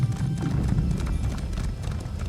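Horse hooves clip-clopping in a steady galloping rhythm while riding through volcanic terrain in the Elder Scrolls Online game, loud and continuous throughout.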